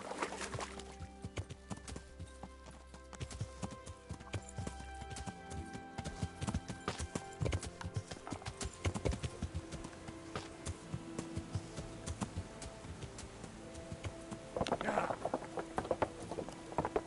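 A horse's hooves clip-clop steadily in the medieval video game Kingdom Come: Deliverance, a continuous close patter of hoofbeats with soft background ambience and no talking.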